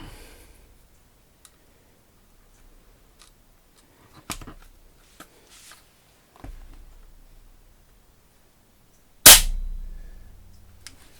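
Shots from a powerful air pistol firing pellets: sparse sharp cracks scattered across a quiet stretch, several faint and one much louder close report near the end with a short ringing tail.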